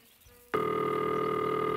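A telephone rings during an in-game phone call in the horror game Martha Is Dead, a loud steady electronic ring tone that starts abruptly after a quiet moment and holds to the end.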